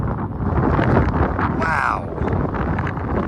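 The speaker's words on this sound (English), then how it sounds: "that wind picked up real fast" Gusty wind roars steadily across open water around a paddle board while fly fishing for bass, a broad rushing noise throughout with a brief whoosh in the middle and a short exclamation from a man.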